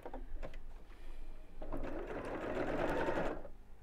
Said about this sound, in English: Just move the needle over a little bit and sew in a box all the way around the edge.